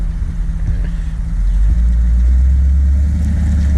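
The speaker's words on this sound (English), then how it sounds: "Katie's driving the Caddy." A Cadillac driven at a Hail To Horsepower event at Opie's Horsepower Farm in Middletown, Ohio: a steady, close engine rumble that swells louder after the first second and a half and holds there.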